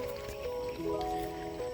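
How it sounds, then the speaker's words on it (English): Gas from paper waste being pyrolyzed bubbles through the water bubbler of a filter, giving a steady, soft gurgling with small drips over a constant tonal hum. "So I have a water bubbler down here, and usually if the gas is going through nice and good, you can hear it bubbling."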